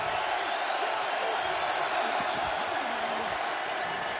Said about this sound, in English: Crowd gets loud on 3rd down